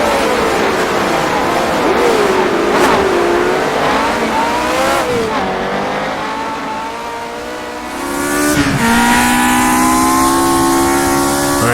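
A race car in the rFactor 2 racing game roars at full throttle past Newry, engine pitch rising and dropping through downshifts to second and first gear, loud and continuous throughout.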